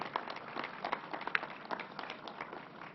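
A small group at a state COVID-19 press briefing gives scattered, uneven applause for National Guard members. The clapping sounds faint and thin, as if from a distance.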